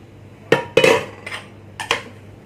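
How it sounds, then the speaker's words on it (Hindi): Metal utensil clinks and taps sound against a bowl as curd and oil are mixed for a hot milk cake batter, in a few sharp knocks separated by quieter scraping. "दही और ऑयल को भल भाव मिक्स कर"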